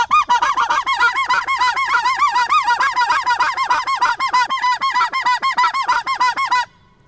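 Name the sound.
Illusion snow/blue goose call being blown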